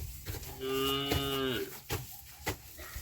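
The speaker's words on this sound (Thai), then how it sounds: "อย่าไปหยอกงัว" A cow moos once on a farm on a cold, overcast morning, a drawn-out low call lasting about a second, fairly close, with light background noise around it.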